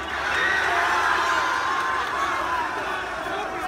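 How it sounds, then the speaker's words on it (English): A crowd of Covington Catholic students chants a school cheer together in unison outdoors in Washington, D.C., a loud, sustained mass of voices. "To pass the time, they did a school cheer."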